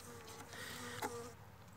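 Honeybees in a ten-frame hive weakened by starvation after snowfall give off a faint, steady buzzing hum with a brief louder flare of wingbeats partway through, no voices present.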